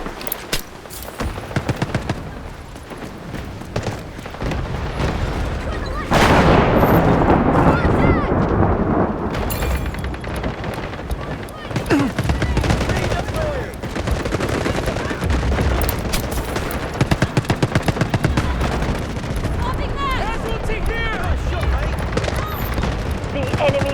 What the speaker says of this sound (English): Requesting artillery barrage on coordinates! Roger that. Artillery barrage incoming.